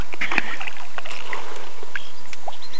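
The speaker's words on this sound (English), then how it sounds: "And all this splashing isn't just bass. Like, I mean, there's bluegill that are making this much racket too." Bass and bluegill splashing at the surface of a small pond, a scatter of sharp, close watery slaps and plops in irregular bursts over steady outdoor background.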